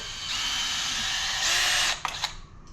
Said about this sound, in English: The drill is digging in and pushing it up.